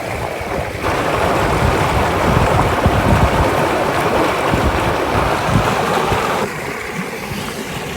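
A Dartmoor river rushing steadily nearby with wind gusting over it, a loud broadband wash that swells after the first second and eases slightly near the end.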